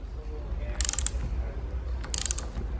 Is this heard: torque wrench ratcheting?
yes